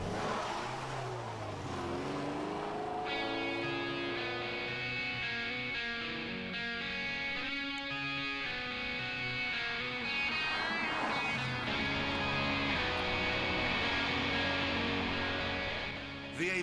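The engine of a Lotus Esprit V8 drones and rises in pitch while driving, a steady cabin-heard hum with harmonic sweeps climbing and settling, moderately quiet and continuous throughout.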